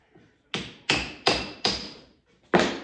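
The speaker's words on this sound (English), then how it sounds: "Now we'll just take the hammer and try and knock it out the end." A hammer knocks at a lilac wood hatchet handle in five sharp, close blows, four in quick even succession and a last one after a short pause, each with a brief ringing decay.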